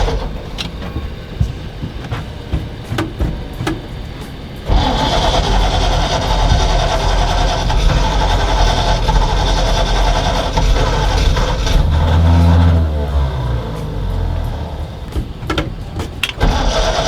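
A truck engine cranks and catches, then settles into a steady, loud idle running for most of the clip, with a brief surge in rumble near the end.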